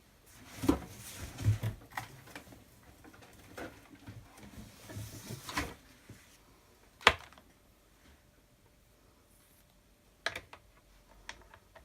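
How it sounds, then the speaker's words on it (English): A paper trimmer slices card stock in a few scattered rustling and clicking strokes, with sharp snaps near the middle and end, close and fairly quiet. "So I'm just going to get my trimmer. And I'm going to trim this down a little bit."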